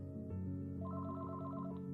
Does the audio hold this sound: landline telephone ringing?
yes